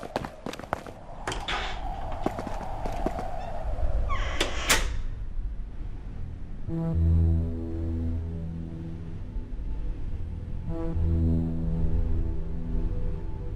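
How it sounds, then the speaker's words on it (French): A metal barrier scrapes along the ground in a grinding, squealing drag with sharp clanks, loud and close, followed by a low droning hum with soft knocks. "déplace une barrière en la faisant grincer au sol"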